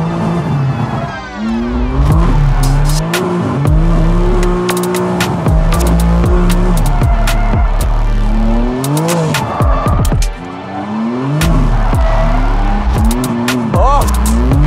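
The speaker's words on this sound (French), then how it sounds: "là normalement ça drift les gars." A video-game car drifts with long, wavering tire squeals over a revving engine, loud and close, with sliding pitch sweeps and a few sharp clicks throughout.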